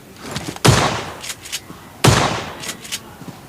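Gunfire in the battle royale game PUBG Lite, two sharp booming shots about a second and a half apart, each decaying into a reverberant tail, loud and close.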